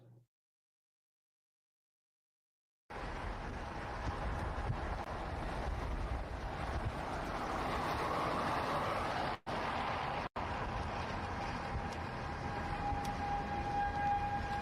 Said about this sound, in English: Here are the tornado sirens.